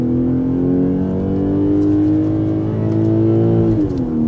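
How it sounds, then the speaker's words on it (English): A BMW's engine in first gear, held by paddle shifters in comfort mode, revs steadily up toward redline with a rising, loud, continuous drone that levels off and dips slightly near the end, with no talking. "See the revs climb"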